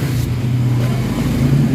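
A Mitsubishi Mirage with throttle delay and low power runs at a steady idle, a close, even low engine hum with no clear cranking or revving.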